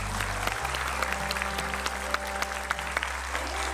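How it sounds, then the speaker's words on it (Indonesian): A studio audience claps in a scattered, uneven way during an Indonesian talk show, with sharp individual claps standing out over a low steady hum and faint tonal music. "Tepuk tangan."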